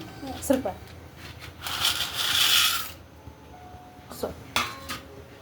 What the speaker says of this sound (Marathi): यात आपण टाकूया पास्ता